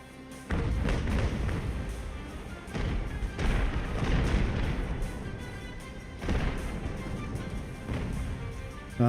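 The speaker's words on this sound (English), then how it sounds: "But come on, cannons." Naval cannon fire in the Ultimate Admiral: Age of Sail game, several heavy booming shots rolling into one another with long rumbling tails, loud and continuous across the whole stretch.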